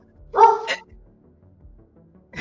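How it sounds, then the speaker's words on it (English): Distant dogs barking, heard from down in a sewer-like tunnel: a short, loud burst of a bark or two, then quiet with a faint start of another sound at the end. "it's crazy that we can hear those dogs all the way down here in these sewer-like things"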